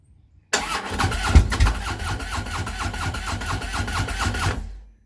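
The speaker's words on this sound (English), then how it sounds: "And you start the bike." A Harley-Davidson motorcycle engine with no fuel pressure in the line cranks loudly and close by, a steady churning starter rhythm that runs for about four seconds without catching, then cuts off.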